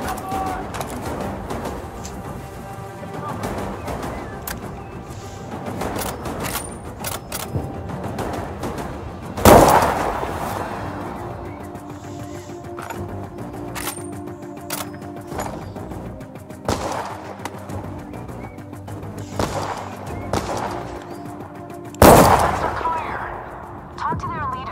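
Gunfire in the VR shooter Zero Caliber: scattered single shots and short bursts over a long stretch of combat, with two especially loud, sharp reports standing out, and voices talking in between.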